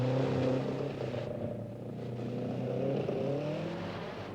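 A Mercedes rally car on the 1978 East African Safari Rally crawls carefully through a riverbed, its engine a steady low drone that dips and swells again, heard alone from nearby.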